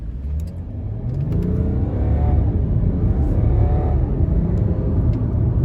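A BMW G30 sedan launches hard from a stop on a slightly downhill road, its engine rising into a steady, loud rumbling pull heard from inside the cabin.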